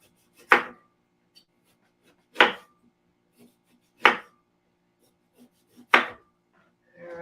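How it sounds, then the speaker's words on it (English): A knife chops through pear on a cutting board in five sharp, evenly spaced thuds, close and crisp against near silence, with no talking. "I'm going to cut up some pear here."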